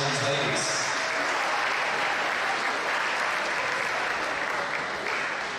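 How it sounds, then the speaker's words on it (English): A gym crowd applauding Eastbrook's five volleyball seniors before a match, loud and continuous clapping with crowd noise that stays full for the whole stretch. "Let's give one more round of applause for Eastbrook's 5 seniors."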